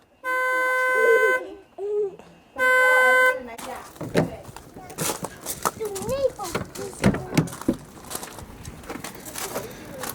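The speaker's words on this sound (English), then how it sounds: "Stop honking the horn." Two long, loud horn blasts sound close by, one after another, followed by overlapping voices talking and calling out.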